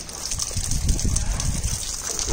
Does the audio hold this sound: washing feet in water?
yes